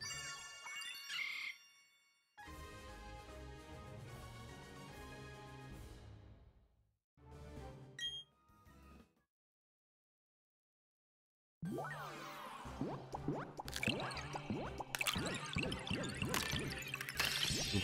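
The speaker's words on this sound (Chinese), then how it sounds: "你听到挖矿的声音" Video game mining in Pokémon Brilliant Diamond/Shining Pearl brings chiming, tinkling tones and bright metallic hits. Short bursts are broken by gaps of silence, then a denser run of strikes follows.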